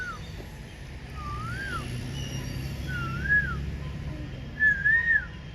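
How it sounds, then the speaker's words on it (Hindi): A koel calls three times with rising, whistled notes, spaced a second or so apart over faint background hum. "कोयल बोल रही है।"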